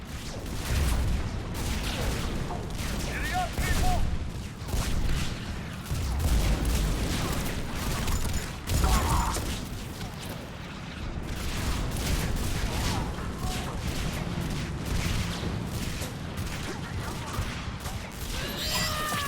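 Artillery fire in Mass Effect 3 Legendary Edition: a dense, continuous barrage of booms and crashing blasts rolling on for the whole stretch, loud and close, with overlapping impacts and combat noise.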